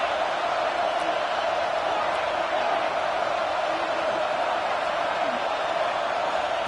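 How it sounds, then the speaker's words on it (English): A home crowd roars steadily in a college football video game, NCAA 26, featuring the Arizona State Sun Devils; dense, constant cheering noise fills the whole stretch without any break. "this home crowd is fired up and ready to make a difference today"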